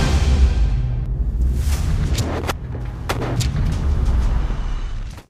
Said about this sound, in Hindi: स्नाइपर गोली चलाता है